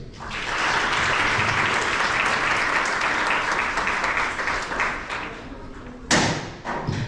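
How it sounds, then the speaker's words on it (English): A university student association meeting audience claps in sustained, dense applause that holds steady for several seconds, then a sharp thump and scattered claps as it fades out. "You guys should really give yourselves a round of applause."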